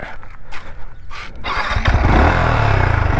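A Yamaha MT-15 motorcycle sits in neutral while its engine runs loud and close, a steady low rumble that takes over about halfway through after quieter, broken sounds.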